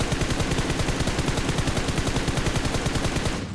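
PUBG Mobile gunfire rattles in a loud, continuous automatic burst of rapid, evenly spaced shots close up, ending abruptly.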